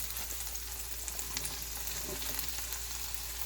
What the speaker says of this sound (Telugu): కట్ చేసుకున్న పనస గింజలు వేయించాలి